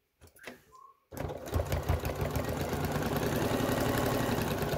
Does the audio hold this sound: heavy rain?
no